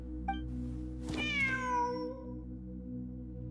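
A cat in Genshin Impact gives a single clear, drawn-out meow over a steady low musical background, with faint short chirps just before and at the end.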